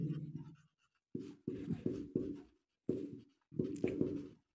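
A teacher writing out the subject line of an application letter: quick bursts of scratchy pen or chalk strokes on a surface, close and clear, separated by short pauses, with no talking.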